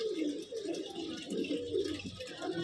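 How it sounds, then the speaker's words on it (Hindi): Punjabi Malwai pigeons, including a red breeder bird, coo in soft rolling phrases close by, with several overlapping calls and a faint background murmur. "लाल रत्ता कबूतर, ब्रीडर कबूतर"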